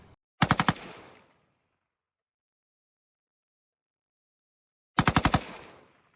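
A turret-mounted machine gun fired on a military test range, heard as two short bursts of about five rapid, loud shots each, separated by several seconds of silence, with each burst trailing off in a brief echo.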